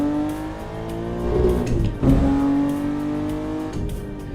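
BMW car engine in a driving video game, revving up and climbing in pitch, dipping briefly, then rising again with a steady close whine and no talking.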